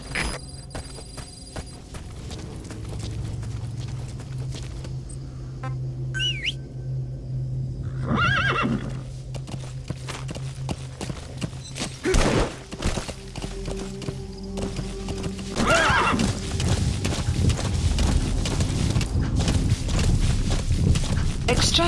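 A horse whinnies amid clopping hooves and rustling movement, with brief ringing tones in a busy game-like soundscape from Metal Gear Solid V: The Phantom Pain.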